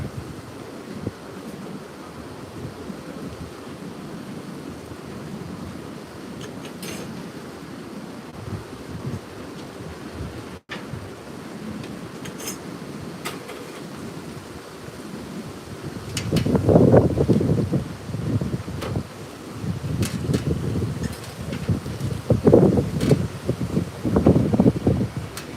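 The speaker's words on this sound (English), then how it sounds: "it's windy. I bet you can hear the wind pretty good" Wind blowing outdoors and buffeting the microphone, a constant low rumble that swells into louder gusts in the second half, with no speech.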